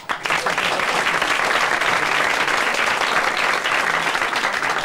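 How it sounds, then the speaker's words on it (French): A studio audience on a French radio comedy show breaks into sustained, dense applause that stays loud and steady for about five seconds before tapering at the end. "Je vous demande d'applaudir Paul Gutt."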